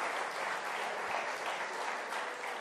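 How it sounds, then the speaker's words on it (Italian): An audience at a conference on innovation in the service sector applauds the national football team with steady, even, continuous clapping that sounds somewhat distant and soft. "forse un bel applauso anche alla nostra nazionale se lo merita"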